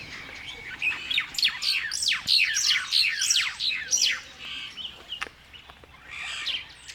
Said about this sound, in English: Sounds like a noisy Birchall starling with another small bird taking dictation.